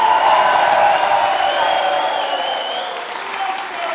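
Applause and some cheering from the crowd at a boxing press conference for Josh Taylor vs. Jack Catterall 2. It is loud and dense at first, then eases slightly and continues steadily to the end.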